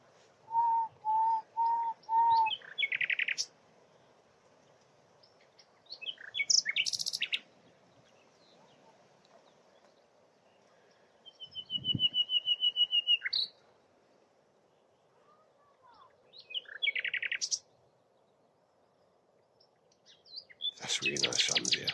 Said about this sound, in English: I think there might be two nightingales here actually.